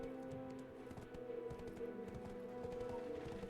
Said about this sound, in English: I'm gonna ride my horse over there real quick while I talk